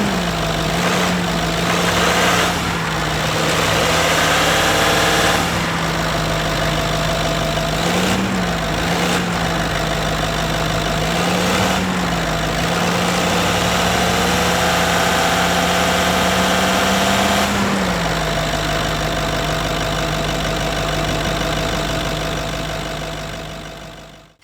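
A Range Rover 3.6 TDV8 diesel engine idles steadily after priming, a loud, even droning rumble with a constant low hum, slight pitch rises where the throttle is blipped, then fading at the end.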